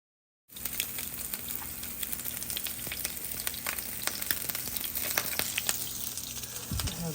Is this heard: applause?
no